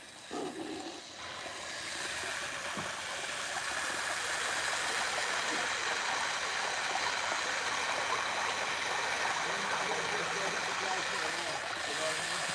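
Water running steadily over a gold concentrate table, a continuous broadband wash that swells slightly after the first seconds and holds at a constant level, with faint mechanical hum beneath.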